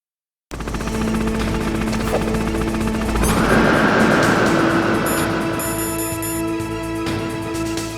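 A Hind attack helicopter in the video game Metal Gear Solid roars loudly and steadily, its rotor thrumming under bursts of machine-gun-like fire and mechanical clatter, with no speech.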